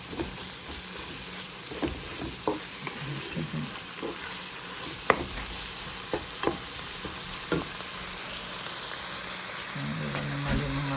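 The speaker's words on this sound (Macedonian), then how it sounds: "Го пржиме." Lasagna sauce frying in a pan, a constant dense sizzle with occasional spoon taps and stirring scrapes throughout, close and fairly loud.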